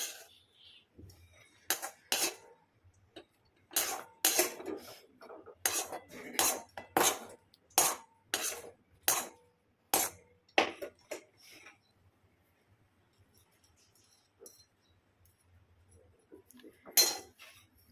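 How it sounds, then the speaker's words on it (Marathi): A spoon clinks and scrapes against a metal mixer jar as cooled masala for restaurant-style paneer makhanwala is scooped in, a run of sharp, close taps in irregular rhythm followed by a quiet stretch and one last clink. "आपण आता थंड झालं आहे, मिक्सरच्या पॉटमध्ये काढून घेऊया."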